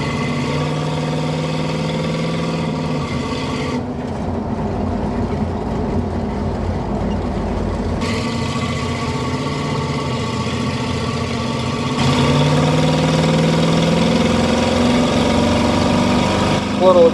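A 1984 Chevrolet K10 short-wheelbase 4x4 pickup with a 350 V8 and 700R4 transmission pulls hard on a test drive, engine drone rising and falling through gear changes, steady and fairly loud inside the cab.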